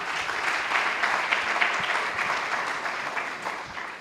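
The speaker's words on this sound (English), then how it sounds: "Applause, please." An audience at an art and tourism film festival applauds a winning film, a soft, even patter of many hands that swells slightly and then tapers toward the end.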